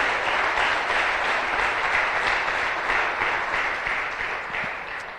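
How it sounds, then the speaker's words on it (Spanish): Church congregation applauding God during a Spanish-language sermon, a steady dense wash of many hands clapping at once, loud and sustained before easing slightly toward the end. "Y dale más fuerte aplauso a nuestro gran Dios"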